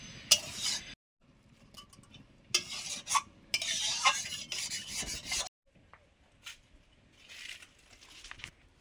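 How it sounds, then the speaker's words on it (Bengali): Firewood being cut by hand outdoors beside a cooking fire, giving rough rasping, scraping strokes in uneven bursts with short pauses between them, close and moderately loud with no talking. "আর তার ফাঁকে আমি একটু জ্বালানি কেটে নিলাম"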